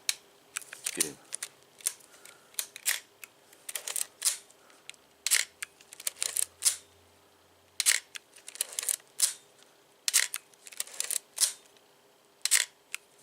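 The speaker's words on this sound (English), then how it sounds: "like the mechanical shutters that I remember from cameras back in the day" A mechanical film camera shutter, like that of a Nikon FM, fires repeatedly in sharp, crisp clicks, some single and some in quick clusters, close and clear against near silence.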